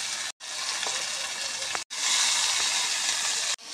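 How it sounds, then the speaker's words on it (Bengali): Boiled goat leg pieces hit hot fried spices in a pan, giving a loud, steady sizzle that breaks off briefly twice before surging back even stronger. "মশলা ভাজা হয়ে গেছে, বয়েল করে রাখা টেংড়িগুলো দিয়ে দেব।"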